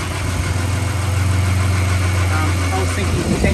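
A Ford BF XR6 with the Barra six-cylinder engine, suspected of sludge and faulty VVT cam solenoids, runs at a steady idle close by, loud constant low hum with slight vibration.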